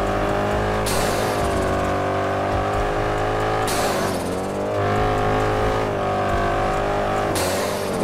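A turbocharged Lexus with a stage 2 tune revs hard through repeated gear pulls, each climb in engine pitch ending in a sharp shift about every three seconds, loud and close inside the car.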